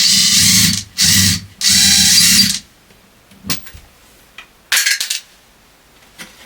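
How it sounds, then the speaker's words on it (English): A power drill bores through a closet wall in three sustained bursts of whirring, followed by scattered knocks and clatter from handling tools. "I'm drilling through the hard work that I just did"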